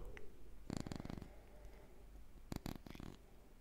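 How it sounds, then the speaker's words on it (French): Scissors snipping close to Rode NT5 microphones in a quiet ASMR setting, two soft clusters of quick rasping, purr-like clicks separated by near silence, gentle and intimate. "Mais en réalité c'est un ciseau"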